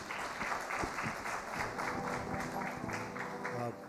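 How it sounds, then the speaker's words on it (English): An audience applauds to welcome a discussion panel at a brand conference, with steady clapping across the whole stretch and a crowd murmur and a few voices underneath. "I need you all to show some love and put your hands together for all of them."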